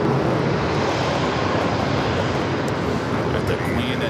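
A Hawaiian Airlines Boeing 787-9 Dreamliner takes off from LAX bound for Honolulu, its jet engines giving a loud, steady, broadband roar that holds evenly throughout.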